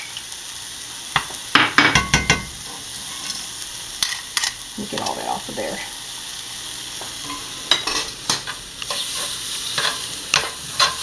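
Steady sizzling of tomato paste frying in a pan over a dying fire, with intermittent scraping and stirring clatter, a voice speaking briefly under it.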